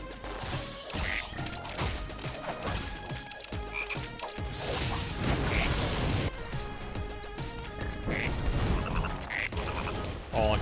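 Frogs croak repeatedly during a frog mini-game in Final Fantasy Rebirth, amid busy clatter, thuds and game sounds, fairly loud and dense throughout.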